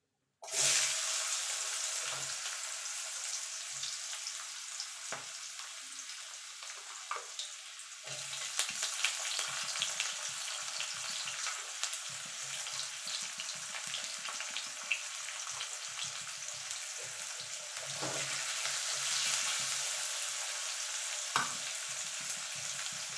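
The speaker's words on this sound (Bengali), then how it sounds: "এই তেলে আলুগুলো ভেজে নেবো" Potatoes frying in oil in a home kitchen, a continuous close sizzle with occasional stirring clinks and scrapes, cooked after small fish for a winter potato and eggplant fish curry.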